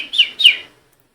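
Two quick bird chirps in close succession, bright and clear, then silence; heard alone over a faint background.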